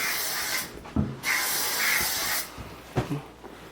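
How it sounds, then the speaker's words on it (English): Disinfectant spray hissing from an aerosol can in a hotel room in several bursts, some long and some short, with brief handling thumps and rustles between them. "Spray everything."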